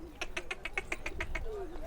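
Flock of birds at the Domiz refugee camp in Syria, giving a rapid series of about ten evenly spaced chirps over faint background noise, fairly quiet and nearby.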